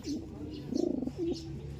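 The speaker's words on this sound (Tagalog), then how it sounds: "Ayan yung mga ibon natin dito." Pigeons or doves coo in a few soft, rounded phrases, with a longer wavering coo in the middle and a shorter one after, over a steady low outdoor background, fairly close by, with no talking.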